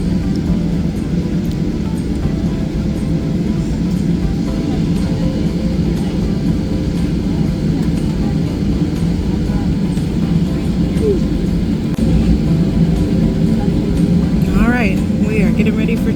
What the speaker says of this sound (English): Getting ready for takeoff.